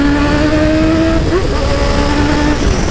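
A 2020 Honda CB1000R motorcycle engine revs loudly and close, its pitch climbing, dipping and rising again in a throaty, sustained roar.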